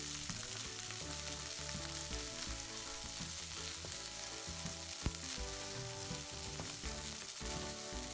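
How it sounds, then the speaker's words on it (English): Egg fried rice stirred in a pan on very high heat, sizzling and crackling loudly and continuously, with occasional clinks of the utensil. "So with the rice, you want to keep it stirring constantly, because it will burn."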